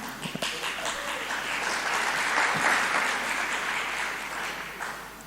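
Sustained audience applause fills a hall at an anti-drug campaign event, a steady dense wash of clapping from many hands lasting several seconds with no talk over it.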